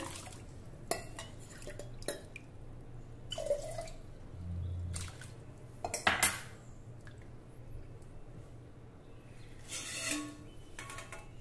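Water is added to coarse cracked wheat in a vessel for a traditional wheat kheer, with quiet drips, splashes and a few clinks of a bowl against metal, sporadic and fairly faint in a quiet kitchen.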